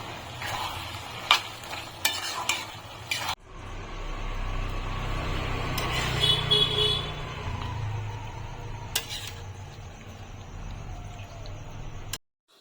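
Mourola fish chochori is stirred in a frying pan: a few sharp utensil ticks, then a long, steady, close sizzle with occasional scraping clicks, ending abruptly.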